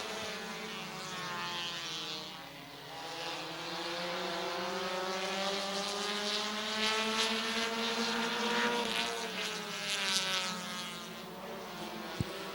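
Race cars roar around Midvale Speedway in a tight pack, engines droning loud and continuous with rising and falling pitch as they pass, distant crowd-like wash underneath.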